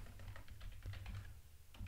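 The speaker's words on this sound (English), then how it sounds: "And I'll start typing with a text element over here." Rapid typing on a computer keyboard while composing a blog post, a steady run of close, crisp key clicks with no voices.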